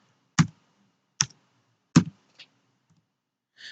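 Keys are typed on a computer keyboard to enter a date, three sharp distinct clicks at a steady pace followed by two fainter taps in a quiet room.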